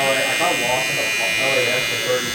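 A Wahl A-Lign trimmer fitted with a detailer blade runs with a steady, high electric buzz, close and continuous, while someone talks over it.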